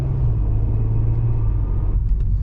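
A Volkswagen Golf R32 drives along with a steady, close low engine rumble and road noise that shifts slightly near the end, with no talking.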